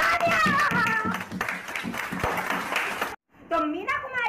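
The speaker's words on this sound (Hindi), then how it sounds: "तालियां" Audience applause on a Hindi quiz-show parody stage, a dense burst of clapping mixed under steady talking voices, fading out before a brief pause.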